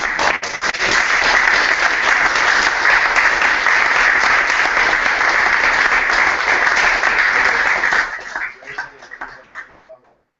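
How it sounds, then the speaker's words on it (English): An audience applauds warmly after an evening talk, dense steady clapping for about eight seconds before thinning into scattered claps and fading out. "Thank you for the applause."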